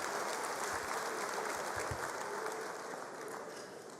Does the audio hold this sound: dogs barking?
no